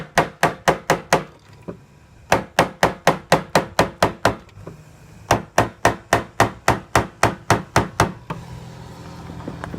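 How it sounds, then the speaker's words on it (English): Rapid, sharp metallic hammer strikes tightening the fuel pump lock ring on a Jeep Wrangler TJ, in bursts of about eight to ten blows each, with brief pauses between the bursts, loud and close. "tighten it by hammering it on the same way we took it off"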